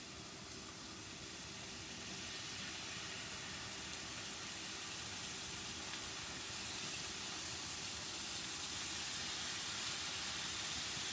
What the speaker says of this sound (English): Got the sizzle like we talk about, get that pan preheated